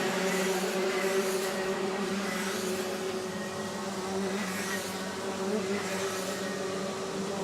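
Junior Max racing karts roar past a grandstand, their high-pitched engines forming a continuous, fairly loud buzz that swells and fades slightly as the pack passes.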